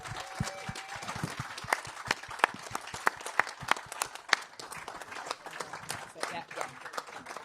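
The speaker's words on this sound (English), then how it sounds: "have a very big round of applause, please" Audience applause at a soil farming awards ceremony, a mix of close individual claps and broader crowd clapping, with voices talking over it.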